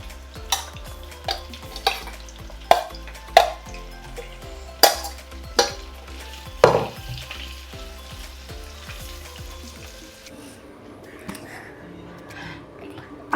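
Prawns fry in hot oil in a pan, a continuous sizzle broken by sharp clinks and scrapes of a spoon stirring against the metal, the frying fading toward the end.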